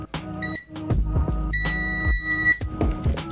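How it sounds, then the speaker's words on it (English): A multimeter on continuity test beeps while electronics are being repaired. Short electronic tones sound, then one longer sustained beep, amid other tonal sounds, with no speech. "just going to check with the multimeter, just for continuity"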